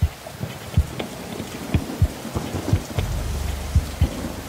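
Steady rain pours over repeated low thunder rumbles and cracks, a loud continuous storm with no voices.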